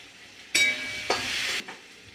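Potatoes frying in a pan with salt and turmeric give off bursts of sizzling with stirring, loud and close, in short separate bursts between quieter pauses.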